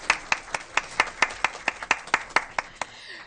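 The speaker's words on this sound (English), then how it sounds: "Yes, we'll clap." An audience at a Newport News school board meeting claps together in a steady, rhythmic beat of about a dozen crisp, evenly spaced claps that stop abruptly.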